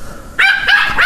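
A dog barks in short, loud yelps, about three sharp barks in close succession, heard near and alone with no talk over them.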